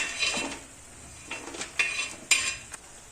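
Toasted coconut is scraped off a hot griddle onto a plate: a few sharp metal scrapes and clinks of a spoon against the pan, spaced irregularly over a quiet background.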